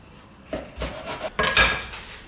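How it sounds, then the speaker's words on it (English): A big knife cuts slices of deep-fried pork belly on a board, a few sharp knocks and crisp crunching chops spaced irregularly, close and fairly loud with no talking. "now we're gonna just cut it into slices here"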